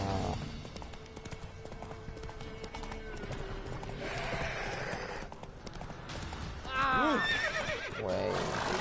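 Roach, Geralt's horse in The Witcher 3 on PS4, whinnies and clip-clops along at a run, with a rising neigh near the end standing out over game music and ambience, while someone speaks over parts of it.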